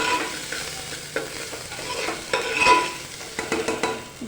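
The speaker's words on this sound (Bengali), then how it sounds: "এবার মসুর ডালটা আদার সাথে ভালোভাবে মিশিয়ে নিয়ে" Red lentils and ginger stirred in a frying pan for a vegetarian bottle gourd dal, giving close scraping stirs with light sizzling in uneven strokes, no voices.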